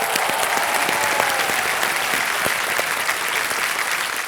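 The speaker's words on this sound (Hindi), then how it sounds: "तालियां बज जाए इनके लिए" A studio audience at a Kaun Banega Crorepati game-show taping claps steadily and loudly, a dense, even wash of applause with no talk.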